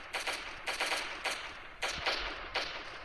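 Short bursts of turret gunfire in the video game Last Day on Earth, about five quick rattling volleys spaced evenly apart, moderately quiet and heard alone without speech.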